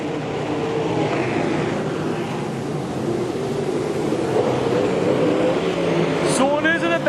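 Super sedan race cars racing at Carina Speedway: a continuous engine roar from several cars at a distance, steady throughout, with a race commentator talking over it.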